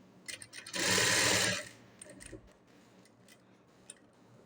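A sewing machine runs a lock stitch in one steady burst of about a second, near and loud, with light clicks and handling taps before and after and no talk.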